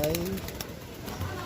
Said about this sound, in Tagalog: So kunin natin yung ibon natin mga kalapatids.